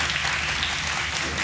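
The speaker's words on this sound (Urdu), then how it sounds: "اب آپ تالی بجا سکتے ہیں" A studio audience at a Ramadan iftar quiz show breaks into steady, dense applause, loud and continuous for the whole short stretch.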